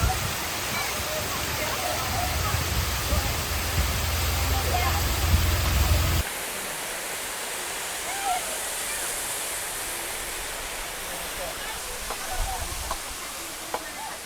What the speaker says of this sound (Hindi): ये है वाटरफॉल और ये बिल्कुल रोड पर है।